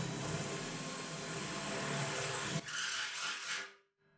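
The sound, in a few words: electric drill drilling holes in metal drum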